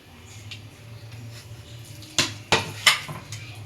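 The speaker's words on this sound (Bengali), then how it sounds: "আর একটু পেঁয়াজ দিয়ে এটা মাইখে নিব" Food and onion being mixed in a pan, a low hum followed by three sharp, close metallic scrapes and clanks of a utensil against the pan.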